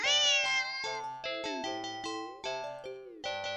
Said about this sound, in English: the cat meows sharply at you